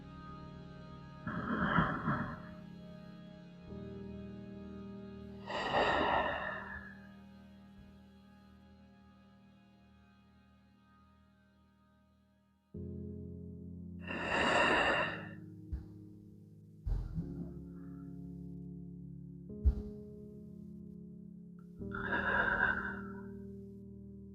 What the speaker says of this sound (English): having 3 deep breaths here